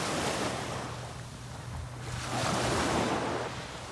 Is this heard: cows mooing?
no